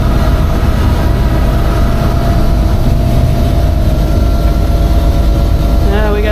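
Inside a Reading & Northern locomotive, the second unit in the consist, a loud, steady diesel drone and rumble fills the cab, with a brief voice near the end.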